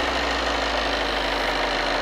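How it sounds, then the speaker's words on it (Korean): A 7th-generation Volkswagen Golf 2.0 TDI diesel idles, droning evenly with a low, constant hum and a faint regular knocking texture, no voices. "엔진 소리 일정하고 좋습니다"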